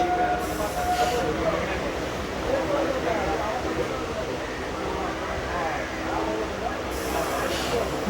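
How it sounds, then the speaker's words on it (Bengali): A Kolkata Circular Railway train on the Ganga riverside stretch near Bally Bridge slows and halts at a red signal, with a continuous rumble, hiss and faint wheel noise throughout and someone talking over it. "সিগন্যাল রেড হয়ে গেল ট্রেন দাঁড়িয়ে গেল"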